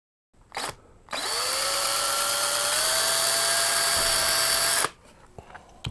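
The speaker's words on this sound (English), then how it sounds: "Drilling through here, put another one over here." A power drill whines steadily for about four seconds, drilling a small hole in a metal PC case, its pitch rising slightly as it bites in, after a brief short burst; close and loud, no talking.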